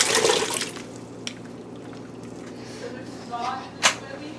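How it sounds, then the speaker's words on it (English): Potatoes drop into a pot of water for kapusniak cabbage soup, giving a brief splashy burst at the start and a smaller splash near the end, with quiet kitchen background between. "Now I'm going to add potatoes."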